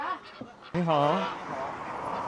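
A loud, nasal honking call rings out close by against busy chatter at a Chinese village market selling ducks and chickens, with other bird noises and voices around it.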